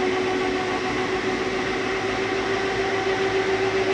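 The living room slide-out of a Flagstaff 29RBS travel trailer retracts with a loud, steady electric motor drone that holds an even hum for the full stretch, with no talking.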